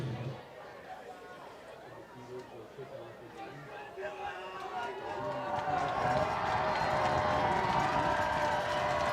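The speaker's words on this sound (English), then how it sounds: "Crowd is getting loud." A homecoming high school football crowd at Lakeland vs Ashland, with a murmur that swells into loud, sustained cheering before a kickoff. Commentators talk over it.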